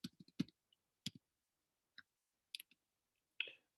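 Typing on a computer keyboard, sparse soft key clicks in small irregular clusters with gaps between, close and quiet with no talking.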